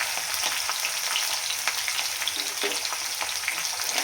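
Garlic frying in hot oil in a pan while making amti, a steady close sizzle with scattered crackles and pops throughout, no voices.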